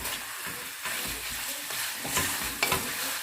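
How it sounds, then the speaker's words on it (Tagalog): Beef stir fry sizzles in a pan while a utensil scrapes and stirs it in repeated strokes, close and steady, with the frying hiss continuous underneath. "You keep on stirring"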